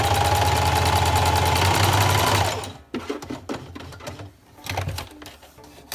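A sewing machine zigzag-stitches along a fabric edge for baby pants, a fast rhythmic mechanical chatter running loud and steady for a few seconds, then stopping, followed by scattered clicks and handling sounds.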